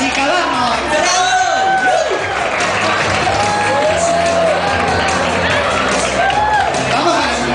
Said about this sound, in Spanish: Fuerte el aplauso para Che, vamos, alegra a la chica